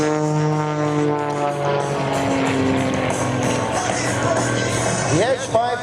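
Edge 540 aerobatic airplane with a 320 horsepower engine, droning steadily overhead and changing pitch near the end as it manoeuvres, with a commentator talking over it.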